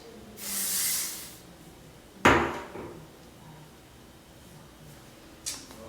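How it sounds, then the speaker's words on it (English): A short hiss of hairspray sprays for about a second, followed by a sharp clunk and another brief spray near the end, in an otherwise quiet room. "I have the hairspray to set. So light spray"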